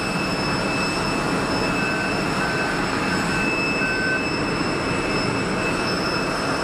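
An easyJet airliner lands at Geneva Airport with a loud, steady roar of engines and rushing air that holds constant throughout, with a faint whine riding above it.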